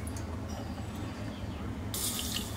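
Water poured from a tap into a glass holding a spoonful of chia seeds, a steady close splashing stream that brightens near the end as the glass fills.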